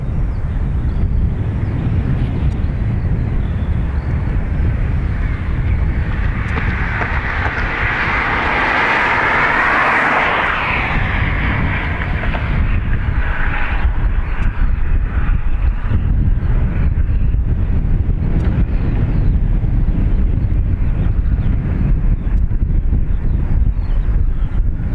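A jet airliner rolls down the runway at Dublin Airport and takes off, heard from a distance as a rising roar that swells to a peak around the middle and then fades, with heavy wind buffeting the microphone throughout.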